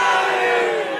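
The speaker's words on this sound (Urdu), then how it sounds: "نعرے مت لگا بھائی" A crowd chants slogans together at a religious gathering, forming a dense, loud wash of many voices that holds steady throughout.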